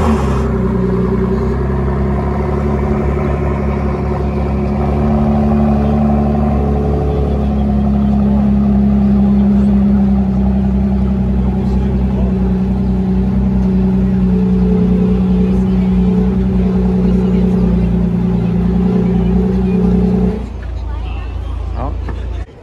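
A new Ford GT supercar engine runs at a steady, loud low drone with a mid-range growl for about twenty seconds before dropping off, and voices talk over it.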